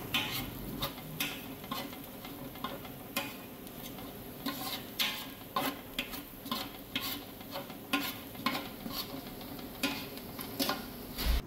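A rice mixture with saffron cooks gently in a pot while a spoon stirs it, making soft, faint sizzling and repeated rhythmic scrapes and taps against the pan, close and quiet with no talking.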